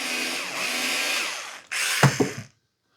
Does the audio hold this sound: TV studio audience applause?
no